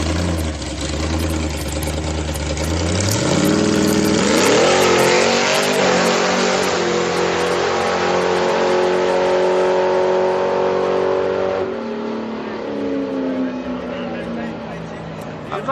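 A loud street car revs hard at a Friday night street car meet, the engine climbing in pitch, holding a high roar, then dropping back to a rough, throaty idle near the microphone.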